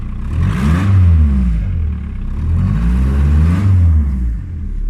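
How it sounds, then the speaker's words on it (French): A car engine with a hole in its exhaust pipe revs up twice, a rough, rumbling roar rising and falling with a raspy, blatting exhaust note, close and loud. "Maintenant, je vais accélérer, vous allez entendre."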